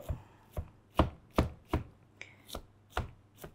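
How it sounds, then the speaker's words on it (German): Vegetables chopped on a board with a knife for a stuffed zucchini and minced meat filling, with about nine crisp, evenly spaced chops close by and quiet between strokes, and no talking. "Das hier schneide ich alles schön."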